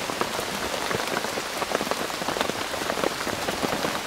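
Rain falls steadily through woodland after a heatwave, a dense, even patter of drops on leaves and surfaces, close and continuous with no voices or other sounds.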